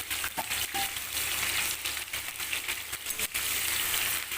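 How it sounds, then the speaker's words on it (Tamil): Chicken pieces, about a quarter kilo, frying on their own in a pan while being stirred: a steady close sizzle with scraping and clinking strokes of a spoon throughout. "இப்போ இதை மட்டும் தனியாக வறுத்துக்கிறோம்"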